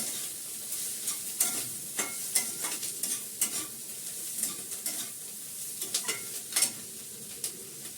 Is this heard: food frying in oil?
yes